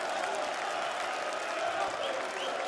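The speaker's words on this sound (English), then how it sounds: "That's got the crowd going even more." At a professional darts tournament, the crowd cheers and applauds loudly after a bullseye checkout, a dense, steady roar of clapping and shouting that fills the hall throughout.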